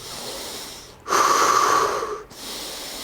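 A single deep, drawn-out exhale through the nose or mouth during a low back pain exercise flow, breathy and close, lasting about a second, between quieter room tone.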